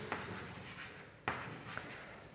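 Chalk or marker writing on a board: quiet scratchy strokes in short bursts with a few sharp taps, heard up close in a quiet lecture room.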